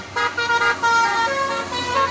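A Sumatran bus sounds its melodic telolet horn close by, a sustained multi-tone musical honk over the steady rumble of road traffic.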